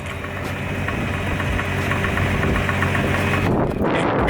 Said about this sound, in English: it's like this clunkiness underneath the car